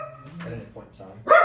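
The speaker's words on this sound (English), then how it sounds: "Excuse the dog." A dog barks once, loud and close, right after a stretch of indoor speech, sharp yelps cutting in at the end while someone is still talking.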